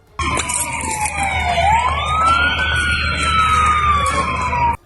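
Fire engine and ambulance sirens responding to a blaze after a missile strike: a loud, close wailing tone rising and falling continuously over traffic rumble, with overlapping siren layers and no speech.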